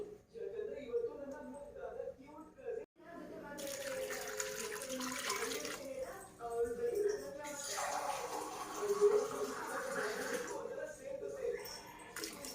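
Water poured into a pressure cooker full of chopped vegetables for sambar: a steady splashing, trickling pour runs for several seconds, with a short pause, and a voice talks over it.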